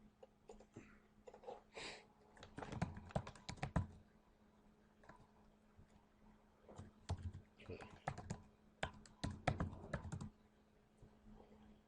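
Rapid bursts of computer keyboard typing while entering login details, clustered in quick runs separated by short pauses, close and fairly quiet with no talking.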